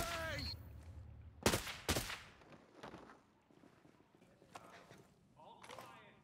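A flashbang grenade thrown by an enemy in Ghost Recon Breakpoint goes off as two sharp, loud bangs in quick succession, followed by fainter thuds and shuffling while a voice speaks over the game.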